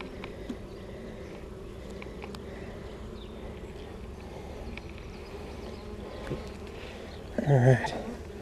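Honeybees hum steadily at a hive opened for inspection, a soft continuous drone with a brief louder burst near the end, while a beekeeper talks over it.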